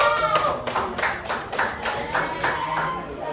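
Students in a classroom clap together in a rhythmic group applause, with steady repeated beats of clapping hands close by and slightly uneven timing.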